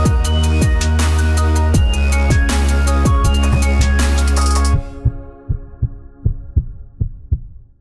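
Heartbeat sound effect opening a podcast intro: deep, evenly spaced double thumps, first under a loud sustained musical tone, then standing alone as the music cuts off.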